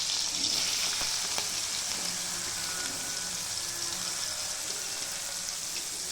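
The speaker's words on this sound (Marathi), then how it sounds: "थोडा थोडी चांगली ती तेलामध्ये फ्राय होऊ द्यायची." Green chillies and onion sizzle steadily in hot oil in a pan for Marathi-style tempered rice, a continuous close frying hiss with a few faint clinks and stirring sounds.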